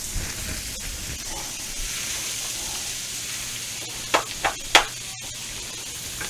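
Chicken pieces for fricassee sizzling in a pan, a steady soft crackle of frying throughout with a few sharp clinks of stirring near the end.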